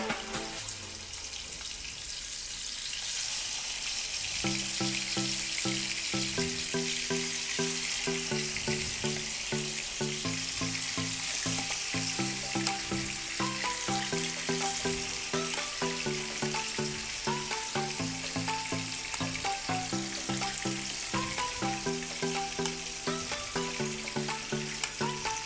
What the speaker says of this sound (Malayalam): നേരത്തെ മാരിനേറ്റ് ചെയ്ത് വെച്ച ചിക്കൻ്റെ ഓരോ പീസും ഈ ചൂടായ ഓയിലിലേക്ക് ഇട്ട് കൊടുക്കാം.